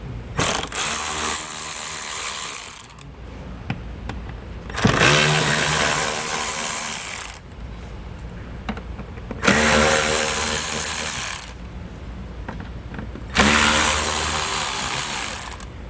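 Ratchet spinning bolts out on a 2022 Audi Q8 during a hidden hitch receiver install, loud close bursts of rapid clicking, four separate runs of a few seconds each with short pauses between.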